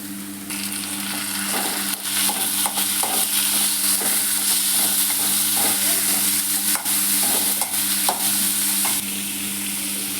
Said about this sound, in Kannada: ಬೇಳೆ ಬೇಯಿಸ್ಕೊಂಡು ಎತ್ತಿಕೊಂಡಿದ್ನಲ್ಲ ಅದರಲ್ಲಿ ಒಂದು ಸೌಟಷ್ಟು ಎತ್ತಿಕೊಂಡಿದ್ದೆ ಇದನ್ನು ಕೂಡ ಫ್ರೈಗೆ ಹಾಕೋತಾ ಇದ್ದೀನಿ